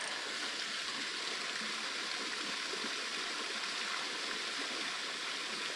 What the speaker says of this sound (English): Get it in there, right where the water's falling down.